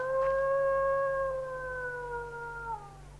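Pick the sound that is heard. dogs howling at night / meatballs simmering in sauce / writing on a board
dogs howling at night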